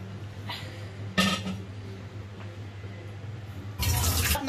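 Water from a blender cup is poured into rice batter for chitoi pitha, with two bursts of splashing pour separated by quieter stirring and handling noise, close and fairly loud.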